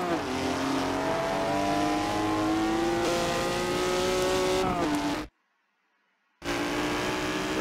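Race cars drive and drift in an online Forza multiplayer race, engines revving hard with a rising whine, loud and continuous, cut by a second of silence before the roar resumes.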